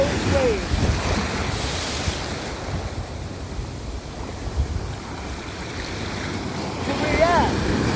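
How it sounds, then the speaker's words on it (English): Ocean surf surges against the shore with a constant rushing roar, close and loud, roughened by wind buffeting the microphone and a faint voice now and then. "I was knocked over by the waves as we were talking"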